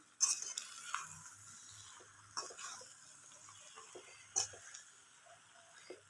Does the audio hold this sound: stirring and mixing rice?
yes